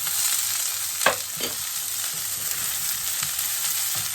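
Onions frying in a hot pan with a constant bright sizzle, close and loud, broken by a couple of sharp clinks or stirring knocks, with no voices.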